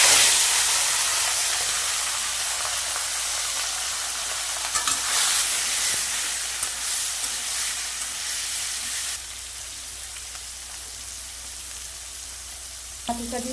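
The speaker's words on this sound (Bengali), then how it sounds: "আমি সাদা তেল দেবো। মাছটা আমি মেখে নিয়েছি, কটা জিরে দিয়ে দেবো। এবার মাছগুলো দিয়ে দেবো।" Marinated catla fish fries in white oil with cumin, a loud, steady sizzle and hiss with occasional stirring clinks that lasts throughout, with no talk.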